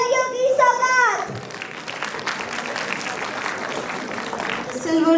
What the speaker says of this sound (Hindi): नज्म बाबा जानी के लिए एक सटी हुई तालियों की सौगात